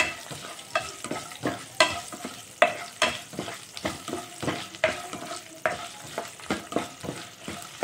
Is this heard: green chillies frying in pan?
yes